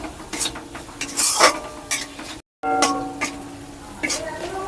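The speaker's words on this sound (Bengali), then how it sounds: "খুব ভালো করে আবার আমি কষাতে থাকবো" Masala paste for a Bengali rui fish malai curry being sautéed in a pan over medium gas with a splash of water: steady scraping stirs and a soft sizzle, close by, with a voice talking over part of it.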